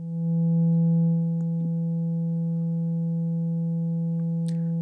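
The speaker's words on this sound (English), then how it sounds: "Here's our sine wave." A steady, pure sine wave tone from a Serge modular synthesizer hums alone at a constant pitch, loud at first and then settling slightly quieter, with a few faint clicks near the end.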